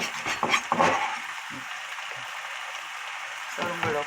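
Sliced onions dropped into a pan of salty kimchi sizzle in a steady, close hiss that runs the whole time, with brief talking near the start and again at the end.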